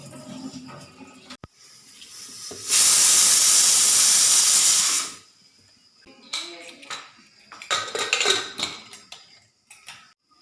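Rice cooking in pots by candlelight in a dark home with no power or water during a flood: a loud, steady steam hiss bursts out for a couple of seconds amid light clatter and soft voices.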